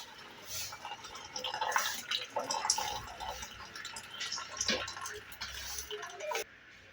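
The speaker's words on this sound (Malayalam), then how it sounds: "നന്നായിട്ടൊന്ന് അരിച്ച് ഒഴിക്കുകയാണ് അതിനെ." Horlicks tea is strained and poured into a vessel, making a steady trickling and dripping of liquid that cuts off abruptly near the end.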